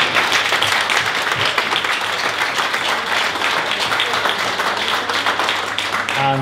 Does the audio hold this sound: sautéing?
no